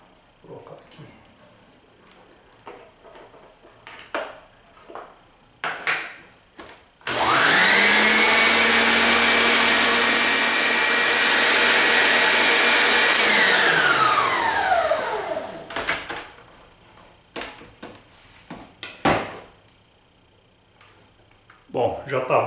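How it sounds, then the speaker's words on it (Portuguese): An electric mixer beats egg whites for a whole-grain jackfruit cake in a home kitchen. It is a loud, steady whirring drone that lasts about eight seconds, framed by speech, clatter and kitchen handling noises before and after. "o primeiro passo nós vamos bater a clara de ovo para deixar ela um pouco aerado"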